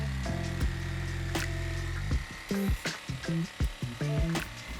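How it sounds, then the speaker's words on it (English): A jigsaw cuts through a cargo trailer's aluminum roof and wood ceiling. A steady buzzing cut gives way to short, choppy bursts of sawing with rattling knocks, close and fairly loud. "we had to go through this twice with the jigsaw, once with a metal blade to get through the aluminum"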